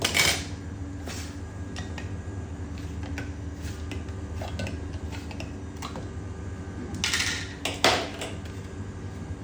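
A tin of mackerel in oil is opened with a series of sharp metallic clicks and scrapes, a few louder pops near the end, over a steady low hum.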